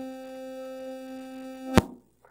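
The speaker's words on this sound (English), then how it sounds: "This is a sound synthesizer from the 80s, and it sounds something like this." A sustained tone from the Ricoh RP2A03 NES audio chip synthesizer of the 1980s holds steady, rich in buzzy harmonics, then cuts off with a brief click and falls silent.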